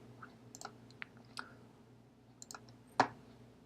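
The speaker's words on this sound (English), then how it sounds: "So you can read it as I type it." Scattered clicks of a computer keyboard being typed on, irregular and sparse with pauses between keystrokes, close and quiet, ending on one louder tap.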